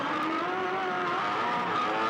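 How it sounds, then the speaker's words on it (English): A Supercars race car spins its wheels on a damp track at Bathurst during the 2007 Bathurst 1000, a steady loud engine roar with tire noise running throughout. "Big wheel spin."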